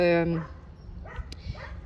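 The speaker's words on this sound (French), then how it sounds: "mon chien jappe en arrière" A dog barks a few times in the background of an outdoor garden, sharp yips under and between nearby speech.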